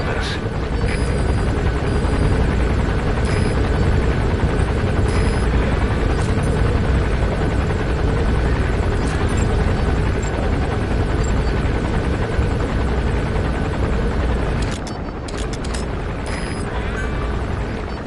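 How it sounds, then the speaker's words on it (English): A helicopter landing in Metal Gear Solid 5 makes a loud, continuous rotor roar with steady thudding. The roar holds for the whole stretch and eases slightly near the end. "There's a chopper landing."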